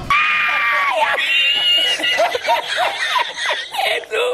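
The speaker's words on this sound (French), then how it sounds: "Je crie si j'ai envie. Je crie. Là, je suis en train de crier." Someone shouts loudly in a series of strained, high bursts, with snickering laughter breaking in between the cries.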